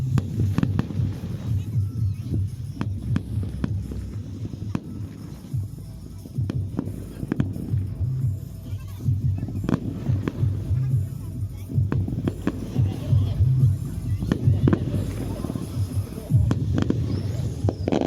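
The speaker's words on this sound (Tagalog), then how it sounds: "so we're done with watching fireworks" Distant fireworks in Pattaya thud and crackle in scattered bursts over a steady low rumble of crowd and street noise, with no clear talk.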